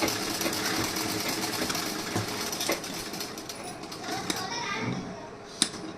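Sewing machine stitching a blouse's sleeve and back panel, a steady buzzing run of stitches that carries through most of the stretch with a few small clatters, close and moderately loud.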